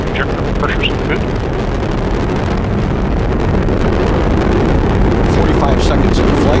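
Atlas rocket engines thunder in flight while carrying OSIRIS-REx, a dense, continuous low roar with wind-like rumble and faint crackle throughout.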